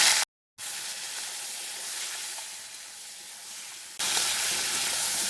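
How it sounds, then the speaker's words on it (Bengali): Prawns fry with just a little oil and salt in a steady, airy sizzle and hiss, moderately loud and close, with a brief dropout, then a louder hiss near the end. "প্রথমে অল্প আমি চিংড়ি মাছগুলো ভেজে নেবো"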